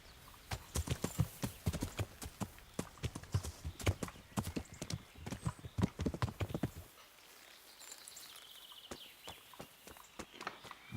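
Horse hooves clip-clop in a rhythmic, close trot while mounting and riding in the medieval role-playing game Kingdom Come: Deliverance, then slow to sparser, lighter steps.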